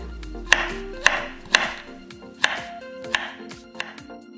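A knife julienning young Korean zucchini (aehobak) on a cutting board gives about seven crisp, close strikes at a steady, unhurried pace, with soft background music underneath and no talking.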